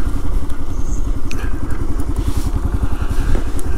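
KLR 650 motorcycle on the move, heard from the rider's helmet: a loud, close single-cylinder engine thumping rapidly and steadily, with wind rush and faint rattles over the top.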